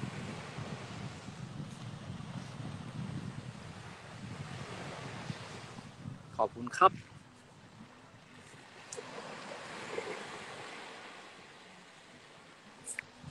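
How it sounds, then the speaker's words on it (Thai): Sea waves wash steadily onto a beach under a constant broadband hiss with some wind noise on the microphone, and a short burst of nearby sounds and a brief spoken phrase come around the middle. "มาแค่นั่งฟังเสียงคลื่นนั่งฟังทะเล"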